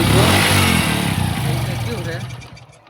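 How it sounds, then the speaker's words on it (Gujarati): A motorcycle that was hard to start on a cold morning roars loudly close by, revving and sputtering before gradually dying down, with someone talking over it. "બાઇક ચાલુ કરું, બાઇક ચાલુ થતું નથી"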